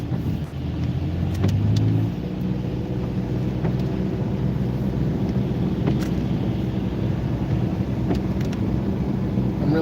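A car driving on a road in traffic, heard from inside as a steady engine and road rumble with wind noise, a brief rise in pitch near the start, then an even, continuous drone, with no voice.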